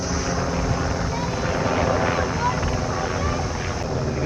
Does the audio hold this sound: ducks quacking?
no